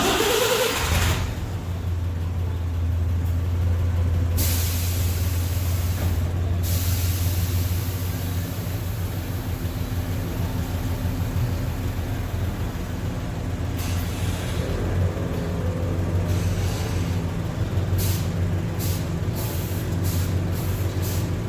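A 1951 Deluxe car is raised and lowered, likely on hydraulic suspension, with a steady low motor or pump hum running throughout and sharp hissing bursts near the start and again in the final seconds, with no talk.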